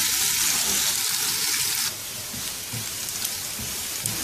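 Red raisins and peeled almonds fry with sugar in hot oil, a steady bright sizzle that drops to a softer, crackling hiss about halfway through.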